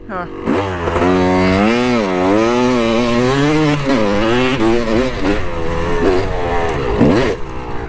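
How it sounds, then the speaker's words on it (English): An off-road vehicle engine at a beach off-road park revs hard at full throttle, its loud rising and falling whine held for several seconds up close before easing off. "you were throttling all the way up and then you let off"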